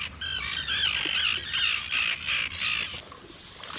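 A purple swamphen calls at a southern Córdoba lagoon with a series of loud, harsh, nasal squawks in quick succession. The bird is close and clear, and no voices are heard.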